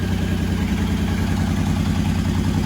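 A 1985 Honda VT1100 Shadow V-twin idles with raised idle, carburetors not yet balanced and mufflers off, on its first run in 25 years; a steady, close, loud rumbling lope with an even pulsing rhythm and no talk.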